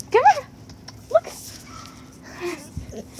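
A pet dog at home gives a couple of sharp, close yips followed by softer whimpering, with a person's voice in between.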